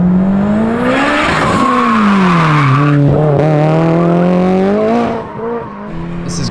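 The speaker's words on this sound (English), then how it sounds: "This has got to be the quietest Evo." A Mitsubishi Evo race car at a drag racing shootout revs loud and close, its engine note climbing and holding in a strong sustained pull, with a brief dip near the end.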